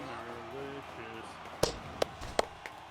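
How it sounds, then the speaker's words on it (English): Hands clap close to a microphone: four sharp, loud claps at uneven intervals. A voice speaks briefly just before them. "That's probably obnoxiously loud when I clap into the mic."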